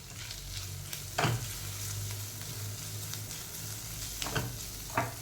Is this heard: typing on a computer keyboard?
no